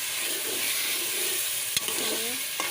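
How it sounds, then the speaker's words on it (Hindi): Ingredients fry in a pan while kaddu dal is being cooked, a steady close sizzle with soft stirring scrapes and a couple of sharp clicks of a utensil against the pan. "हम इसे 2 मिनट तक भूनेंगे।"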